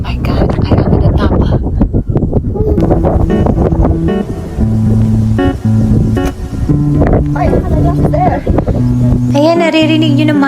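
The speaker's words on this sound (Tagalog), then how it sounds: "naririnig nyo naman, sobrang lakas ng hangin dito sa tuktok ng bundok" Heavy wind buffets the microphone with rumbling gusts on a mountain summit while a person talks and shifting tones sound through the blustery noise.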